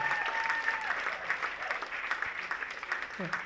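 An audience at an Ignite Talks event at MSU claps and cheers for the final presenter, a continuous, fairly loud wash of applause with a few whoops, with a brief bit of speech near the end.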